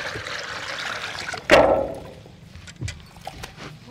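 Washed lentils splash into hot water in a clay pot with one sudden pour and a liquid rush, followed by faint trickles and small plops close by.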